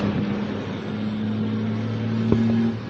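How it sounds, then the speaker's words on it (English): A loud car drives quickly across a bridge, its engine a steady, close hum with a smooth roar of tires and a brief sharp knock near the end. "We have a loud car going across the bridge."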